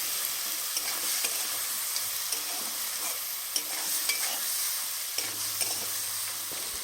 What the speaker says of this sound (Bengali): সব কিছু মশলা একসাথে কষিয়ে নেব।